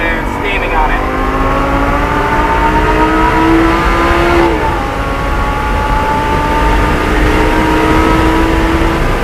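A Lamborghini LP560-4 screams under hard acceleration on a race track, its engine note climbing through the revs in rising sweeps, dipping briefly at a gear change, then pulling up again, loud and continuous from onboard.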